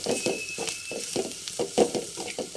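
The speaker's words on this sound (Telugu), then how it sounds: "మనం పొడి చేసుకు పెట్టుకున్న ఈ పౌడర్ నిండా వేసి ఫ్రై చేసుకోవాలి" Ground homemade spice powder fries in a pan with a low sizzle. Regular stirring strokes scrape about twice per second in a steady rhythm.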